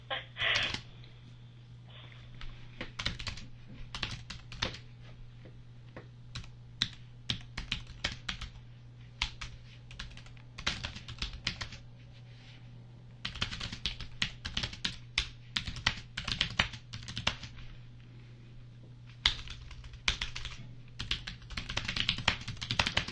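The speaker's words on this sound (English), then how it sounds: "Sorry for the typing" A computer keyboard is typed on in bursts of rapid clicking and clacking, close and fairly quiet, separated by short pauses over a low steady hum.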